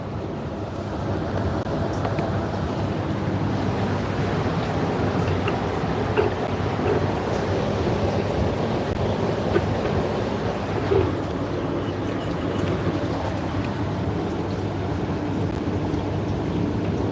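Engine coolant drains steadily out of a vehicle during a coolant service, making a continuous rushing, gurgling stream of liquid that stays at an even level throughout, with no talk.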